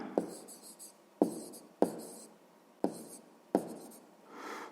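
A pen writes an answer into a sixth-grade maths exercise book in five separate bursts of quick scratching strokes, each starting with a sharp tap and separated by short pauses.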